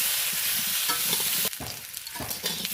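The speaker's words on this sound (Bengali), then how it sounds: "লবণ হলুদ দিয়ে দেখো আলুগুলো ভেজে নিয়েছি প্রথমে।" Potatoes frying with salt and turmeric in a pan, with a bright, continuous sizzle and stirring scrapes close by; the hiss drops briefly midway, then the frying continues more unevenly.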